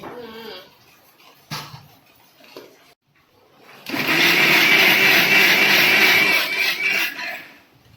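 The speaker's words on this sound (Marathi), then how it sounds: "ह्या आता मिक्सरला लावलेला आहे" A kitchen mixer grinder blends crabs with water into an extract, roaring loudly and steadily for about four seconds after a few faint knocks and handling noises.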